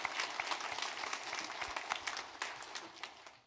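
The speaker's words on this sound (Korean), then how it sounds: "한번 힘있게 박수 한번 하나님 앞에 영광을 돌리겠습니다" A church congregation bursts into steady, energetic applause, a dense patter of many hands clapping at moderate distance that fades slightly toward the end.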